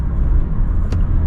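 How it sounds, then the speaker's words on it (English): A 2021 Mazda MX-5 Miata RF with a six-speed manual and hard top overtakes on a highway, giving a steady, close engine and road rumble with a brief rising whoosh partway through. "So we just go for a bit of an overtake here."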